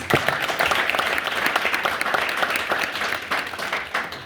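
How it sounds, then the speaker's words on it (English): Sustained applause from a large audience at a graduation ceremony, dense and steady clapping that fills the space without pause. "Can we get a massive round of applause for the graduates?"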